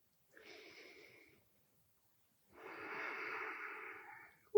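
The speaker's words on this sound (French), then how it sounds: "Une dernière respiration." During a gentle yoga session, a person draws one soft breath in, pauses, then lets out a longer, audible exhale close by, quiet and unhurried.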